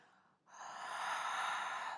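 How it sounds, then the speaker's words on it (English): A single long, breathy Ujjayi exhale through an open mouth, the kind used to fog a cold pane of glass, follows a brief pause and holds steady, close and soft, with no talking. "imagine breathing like you're warming up a really cold pane of glass"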